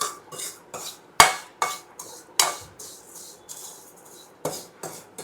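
Roasted mango seed mukhvas is stirred with black salt in a metal pan, giving repeated scraping and clinking strokes at an uneven pace, close and clear, with brief pauses between sharp knocks.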